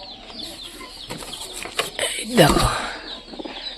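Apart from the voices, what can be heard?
Giribaj pigeons calling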